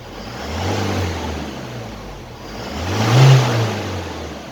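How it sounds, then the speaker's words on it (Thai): A 4x4 top-model pickup engine revs twice while an electric throttle box is tested, a first rise near the start and a stronger, louder surge later, heard alone and close. "ลองมาดูนะครับอัตราเร่งนะครับ"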